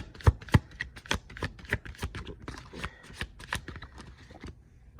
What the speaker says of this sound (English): Alright, that's just poor shuffling.